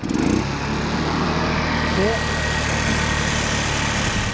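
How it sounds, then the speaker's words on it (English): A GY6 50cc scooter engine runs steadily with a buzzing drone, its pitch lifting briefly as the throttle is turned; a voice speaks briefly over it. "every time I turn the throttle, watch what happens"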